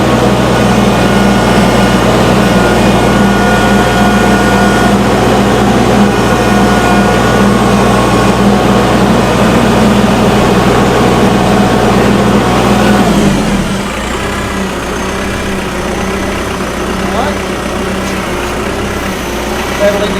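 A loud Kubota tractor engine revs steadily with a heavy low rumble for most of the clip, then drops abruptly to a quieter idle near the end.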